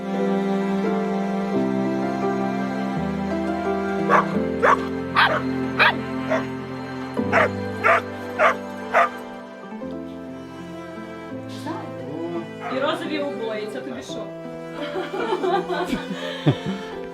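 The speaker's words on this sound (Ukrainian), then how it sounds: "Вони вирішили залишити цих собачок в себе." Dogs kept by a family in the occupied Kherson region bark in a quick run of sharp, evenly spaced yaps over background music, with a few softer yips afterward.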